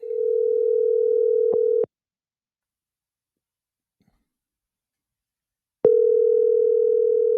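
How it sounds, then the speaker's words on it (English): A telephone ringback tone sounds while a call is being placed, a steady tone lasting about two seconds, a long silence, then the tone starting again. "Hold on, I want to make a phone call real quick."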